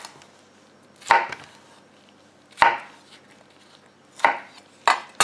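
A Ninja NeverDull kitchen knife cuts through a tomato and strikes the cutting board in five distinct, close chops spaced unevenly, with quiet gaps between them.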